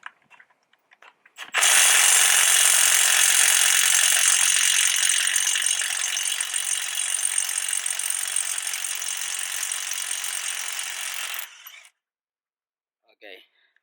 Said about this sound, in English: Let's see if we can remove these lug nuts.